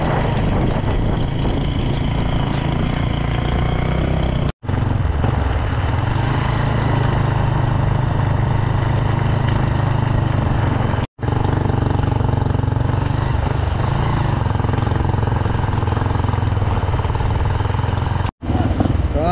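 A heavily loaded motorcycle engine drones close and loud in a continuous steady hum, broken by three brief cuts, on a ride through a strong storm.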